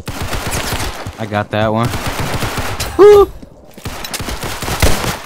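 Gunfire from a Tec-9 in the Roblox game Criminality, heard as a short loud burst of shots mixed with excited chatter and game sounds, with a player speaking over it.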